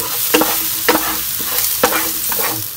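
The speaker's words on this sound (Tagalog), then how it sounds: "Andito na tayo sa kawali at naglagay na ako ng oil. Yan, unahin natin yung garlic guys. Igisahin muna natin." Garlic sautéing in hot oil in a pan (kawali): steady bright sizzling broken by several sharp scraping stirs of a utensil against the pan, close and loud, with no talking.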